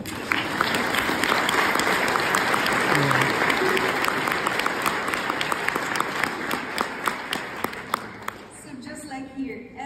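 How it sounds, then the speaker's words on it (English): A large audience applauds at an ESCP Masters graduation ceremony, with dense, sustained clapping filling the hall before thinning into scattered claps near the end. "So just like here, everyone cheered and clapped."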